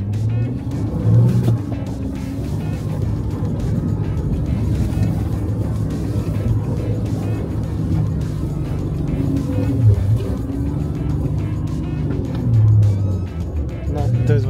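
A VW Amarok 3.0 TDI V6 pickup engine rumbles and labors steadily while driving off-road in 4H over rough terrain, with occasional louder surges and muffled voices underneath.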